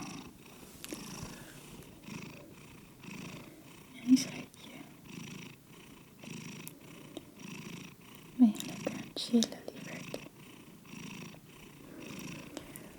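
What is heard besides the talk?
cat purring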